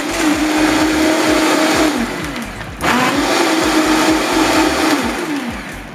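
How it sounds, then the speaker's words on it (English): A blender whirs loudly as it purees coconut water with soaked nuts, running steadily, briefly dropping in pitch and power near the middle, then spinning back up to full speed. "We'll just blend it until it's smooth and then strain it."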